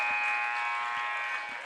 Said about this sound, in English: And the shot is taken by McCarthy, missed it at the buzzer